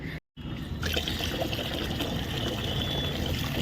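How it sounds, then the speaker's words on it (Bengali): Water poured onto potted plants and a guava tree on a hot day, giving a steady close trickle and splash that runs continuously after a brief gap at the start. "তার আগে হচ্ছে গাছগুলো তো জল দিয়ে"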